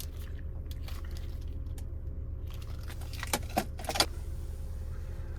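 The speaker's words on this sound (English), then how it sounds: "And finally, here's our key fob." Keys on a 2020 Range Rover Velar R-Dynamic S key fob jangle close by inside the car, a cluster of bright metallic clinks near the end over a quiet cabin hum, with no voices.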